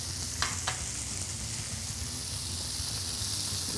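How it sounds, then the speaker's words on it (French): Vegetables, mushrooms and onions sauté without browning in a pan, giving a steady close broadband sizzle with two brief sharp crackles near the start and no voices. "On continue à faire sauter sans coloration."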